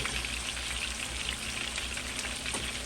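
Halibut fillet sizzling in a frying pan, a dense, steady crackle of hot oil that stays close and constant with no voices.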